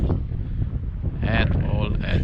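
Strong wind buffets the microphone beside a flooded river while spinning for zander, a steady rushing roar with gusts swelling louder toward the end.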